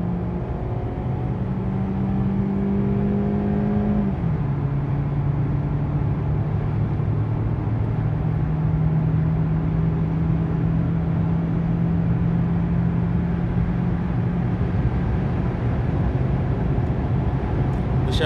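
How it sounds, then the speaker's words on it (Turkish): Toyota Avensis T25 accelerating hard at full throttle in third gear on a road, a steady droning engine note rising in pitch under constant road and wind rumble, with no talking. "Arabanın ivmelenmesi bu şekilde."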